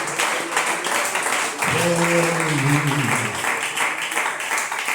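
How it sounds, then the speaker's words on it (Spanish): A congregation applauds in a church service, with continuous clapping throughout and a voice rising in a drawn-out exclamation over the middle of it. "Pero ese aplauso, aleluya."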